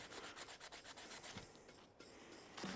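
Emery cloth rubbed by hand over the spring mounts of a sprung solo seat on a vintage Triumph chopper, giving rapid rhythmic rasping strokes, close and fairly quiet, with a brief pause before the scrubbing resumes.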